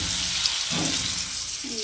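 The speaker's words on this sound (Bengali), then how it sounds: "এখানে করলা ভাজছি বন্ধুরা।" Bitter gourd frying in a pan gives off a steady, close sizzling hiss that runs unbroken through the short stretch, with no clear talk over it.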